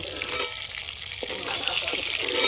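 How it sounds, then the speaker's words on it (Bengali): Rohu fish pieces sizzle steadily in hot oil in a pan, a dense, continuous crackling hiss that holds near and fairly loud throughout with no voices. "লাল লাল করে ভেজে নিয়েছি"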